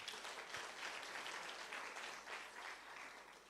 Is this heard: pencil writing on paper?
no